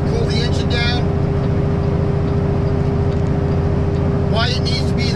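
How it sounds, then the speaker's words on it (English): A flatbed truck's engine cooling fan kicks on while the truck cruises down the highway. It makes a loud, steady roar with a constant whine through the cab, and brief higher rattles near the start and end. "And there's the fan to cool the engine down."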